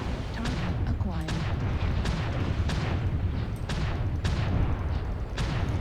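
Mech weapons fire in MechWarrior Online, with a Phoenix Hawk and a Warhammer in combat: a steady rumble of repeated heavy shots and booms, several sharp impacts spaced through the scene, loud and continuous.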